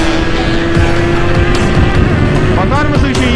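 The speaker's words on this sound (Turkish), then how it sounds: "Motor hafif olduğu için motoru zapt etmesi biraz zor. Çünkü havalanıyor." A Yamaha R6 motorcycle accelerates hard with its front wheel lifting, its loud, close engine roaring steadily and rising sharply in pitch near the end.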